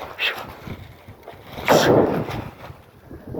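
Gusty outdoor wind while pigeons are released from an attic, irregular rushing bursts buffeting the microphone, one strong gust standing out in the middle.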